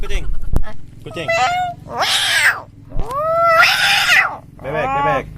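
A person imitates a cat with several drawn-out, wavering meows and yowls, close and loud, separated by short pauses, with a little talk at the start.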